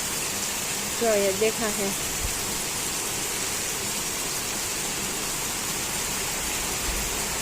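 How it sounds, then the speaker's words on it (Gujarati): Heavy rain driven by wind pours down as a constant broadband hiss outdoors near buildings. A voice speaks briefly near the start, over the unbroken wash. "હવે પવનની સાથે સાથે જોરદાર વરસાદ આવી રહ્યો છે"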